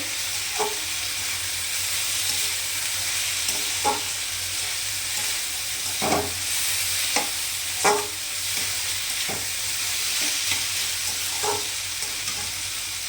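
Snake gourd frying in a pan with onion, nigella seeds and green chili, a steady close sizzle with occasional stirring scrapes and clinks over the hiss.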